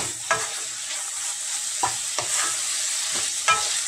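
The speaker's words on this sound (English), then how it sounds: "Now add the paneer or chena and mix it." Paneer or chena being stirred in a sizzling pan for Odia manda pitha stuffing, a constant bright frying hiss broken by a few soft spatula scrapes spaced about a second apart.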